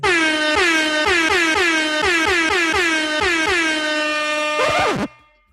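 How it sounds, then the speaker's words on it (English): A loud air horn blasts in a rapid rhythmic series of repeated honks, ending with a final longer blare that cuts off abruptly. "See if we got the air horn for him."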